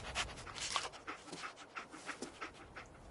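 A dog companion pants in Fallout 4, quick rhythmic breaths repeating steadily at moderate volume throughout, alone without talk.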